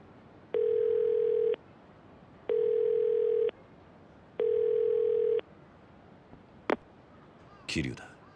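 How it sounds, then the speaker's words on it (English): Payphone dial tone in a Yakuza video game: three steady, loud tone bursts about a second long each, evenly spaced, followed by a sharp click and a brief rustling handset noise. "here's a payphone. Better call the family office."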